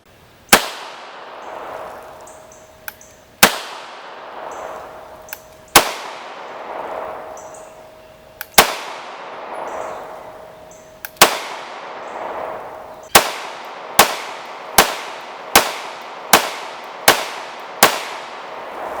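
Sharp gunshots from a Beretta APX A1 pistol, loud and close, each with a ringing tail; spaced single shots at first, then a quicker string of rapid shots, with no talking.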